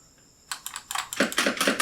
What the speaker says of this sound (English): I'm literally using a keyboard